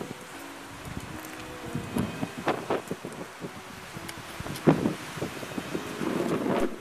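Blustery mountain wind in the Dévoluy, Hautes-Alpes, buffets the microphone with rumbling low gusts, rising and falling, with a few sharper rustling bursts and no voices.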